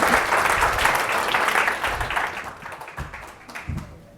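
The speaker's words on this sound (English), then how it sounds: "One more round of applause, please." An audience at a business and entrepreneurship summit claps after a panel discussion, with dense, steady applause that gradually thins and fades out into a few scattered claps.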